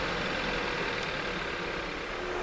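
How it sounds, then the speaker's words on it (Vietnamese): A 2022 Kia Sportage engine idles after a remote start, a steady low hum with a faint even rumble, close by and alone with no talk. "Nó thì xe hiện tại bây giờ nó vẫn đang nổ máy ha nè."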